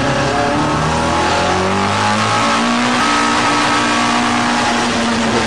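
Classic touring cars racing at Mallory Park bunch up and brake into the hairpin, several loud engines overlapping close by with falling pitches as the drivers back off and downshift, with no talking.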